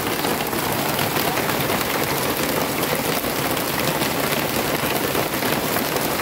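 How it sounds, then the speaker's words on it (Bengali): A downpour falls hard and without letup, its thick roaring patter close by and even throughout, with no voices over it. "অনেক জোরে জোরে বৃষ্টি হচ্ছে"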